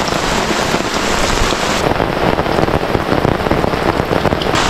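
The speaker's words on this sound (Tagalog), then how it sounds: "Pumapatak na naman ang ulan, ano ang aming gagawin?" Steady, heavy rain pours onto surfaces nearby, a dense, even hiss that stays loud throughout, with no voices.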